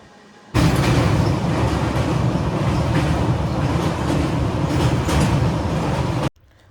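A train at Solapur railway station in Maharashtra rumbles steadily and loudly with a broad, continuous roar, starting abruptly and holding for about six seconds before cutting off. No voices are heard.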